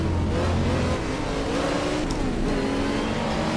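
BMW 635 race car in the GTR2 racing game, a steady, loud engine drone at high revs with a shift in pitch about a second in.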